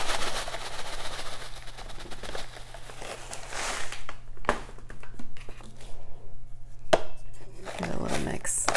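Perlite is stirred into potting soil while repotting a Monstera albo, making close gritty rustles and scrapes in uneven bursts, with a quieter lull in the middle and a sharper scuff near the end.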